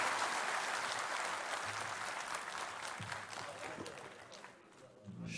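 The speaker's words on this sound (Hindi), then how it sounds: "एक जोरदार ताली बजा दीजिए" An audience claps vigorously at a media launch ceremony, a dense wash of applause that holds strong for several seconds before thinning and dipping near the end, then briefly swelling again.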